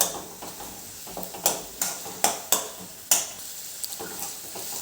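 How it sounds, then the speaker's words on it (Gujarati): Ginger, chili and garlic paste sautés in a pan for urad dal, giving a constant sizzle broken by a handful of sharp spoon scrapes and knocks against the pan, close by, with no talking. "અને એક ટેબલ સ્પૂન જેટલું આદું મરચાં અને લસણની પેસ્ટ છે તે એડ કરીશું અને બરાબર હવે સાંતળી લેવાનું છે"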